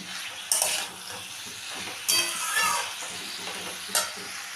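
A spatula scrapes and stirs a cauliflower and winter vegetable dish in a frying pan. Three distinct scraping strokes about two seconds apart cut through a soft continuous sizzle, close by, with no talking.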